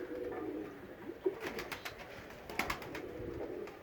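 Soft pigeon cooing close by, a few low throaty calls over quiet outdoor background noise.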